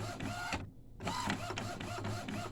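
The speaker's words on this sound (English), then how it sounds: "it does slow the printer" An Epson SX218 inkjet printer running in slow print mode, a loud close mechanical whirring and rhythmic chattering of the print head carriage with a brief pause before the motion resumes, no voices.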